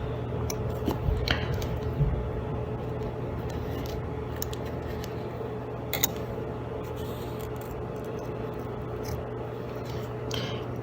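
Small scissors make a few faint snips through beading thread for earrings, scattered quietly over a steady background hum.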